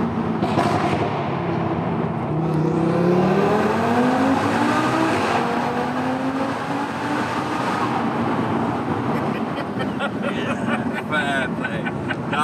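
An Audi RS3 running on race fuel revs hard to about 8,000 rpm, its engine note sweeping upward loud and close, then easing off while voices talk over it.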